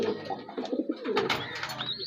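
Pigeons in a loft, among them red checker and red mealy birds, give several soft throaty coos up close, overlapping with light rustling and chirps.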